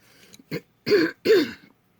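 A person nearby clears their throat in a few short bursts, ending with two harsh, rasping coughs, each separated by brief silence.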